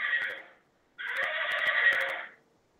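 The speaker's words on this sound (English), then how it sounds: "There's the horses we warned you about." Horses neigh and whinny in two loud, close bursts, a short call and then a longer one separated by a brief pause, with faint hoof clip-clop mixed in.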